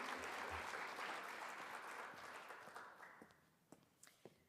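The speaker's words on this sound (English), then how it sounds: "Please join me in giving them a round of applause and congratulations on their accomplishments." Audience applause for 2024 graduates at an ethnic, gender, transborder studies and sociology summit, a steady ovation that gradually fades into a few scattered final claps.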